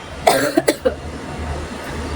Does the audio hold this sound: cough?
yes